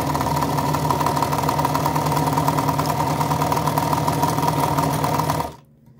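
A Meister 173 domestic sewing machine stitching at a steady pace, its motor and needle mechanism producing a continuous, fairly loud mechanical whir with a fine rhythmic chatter, stopping abruptly near the end.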